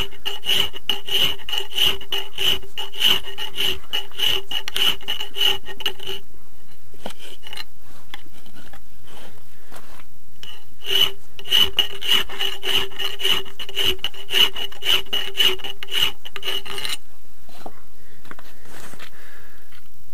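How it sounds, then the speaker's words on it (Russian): Hand file rasps rhythmically against metal while widening a bolt hole in a plate for a homemade mini tractor, loud close strokes in two long bursts separated by a quieter pause. "работаю напильником, расширяю вот это вот отверстие"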